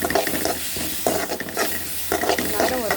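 Ginger garlic paste frying in a pan, stirred with repeated scraping strokes over a steady, loud sizzle, all close by, with no voices.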